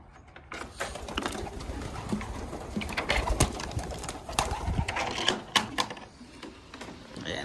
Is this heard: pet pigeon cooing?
yes